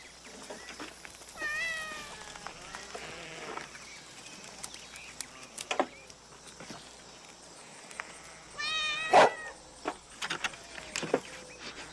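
A house cat meows several times in a barn setting, short rising calls spread across the stretch with soft shuffling and faint background noise between them, close and moderately loud.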